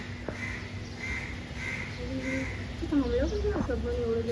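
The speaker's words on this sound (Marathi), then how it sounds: "पक्षी बघा आमच्याकडे नवीन आला हा" A bird newly arrived at a window gives a series of harmonic calls, first faint and spaced, then louder, rising and falling notes near the end, with a steady hum and room noise underneath.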